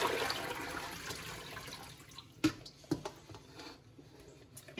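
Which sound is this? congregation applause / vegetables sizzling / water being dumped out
water being dumped out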